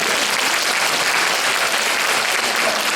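Dense, steady audience applause at a school education concert in Gyeongsangnam-do, a hall full of clapping hands throughout with no pause.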